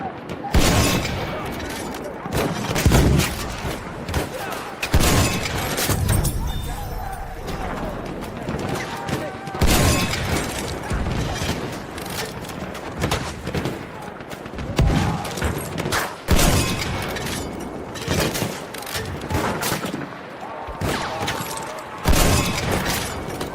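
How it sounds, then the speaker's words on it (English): Heavy anti-tank rifle shots boom repeatedly during a gaming stream, followed by crashing and shattering debris, loud and recurring every few seconds, with a voice talking over much of it. "in case you were wondering what he was using, there was an anti-tank rifle"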